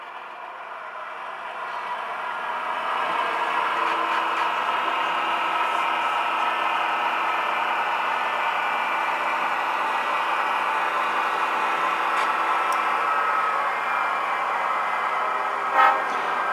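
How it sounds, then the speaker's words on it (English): Two MTH Proto 3 O gauge model diesel locomotives run on an automatic DCC push-pull shuttle, a steady motor hum and sound-system rumble with short horn toots near the end. "gray engine just gave a toot when it stopped, and the red one just gave 3 toots because it's starting up in reverse"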